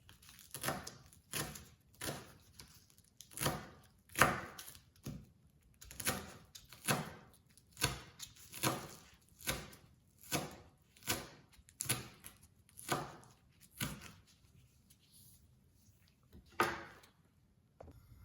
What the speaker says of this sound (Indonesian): Seledri dan daun bawang ini kita rajang halus